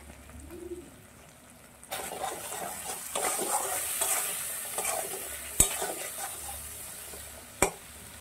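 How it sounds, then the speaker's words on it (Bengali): Spices with Kashmiri chilli powder, salt and boiled tomato paste are stirred and fried in a pan for Bengali vegetarian aloo dum: a steady sizzle with scraping and clinking of a spoon, plus a couple of sharp knocks against the pan. "এবার মশলাটা আমি খুব ভালো করে আগে কষিয়ে নেব"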